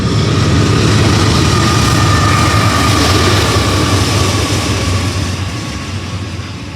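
Freight train hauled by two AC-44 locomotives rolls past a depot, a loud, steady rumble of wheels and engines that stays close throughout, fading only slightly at the end.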